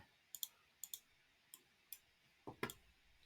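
A computer mouse clicks on toolbar buttons in 3D software, giving sharp close clicks in pairs and singles, about eight in total, with quiet gaps between them and no talk.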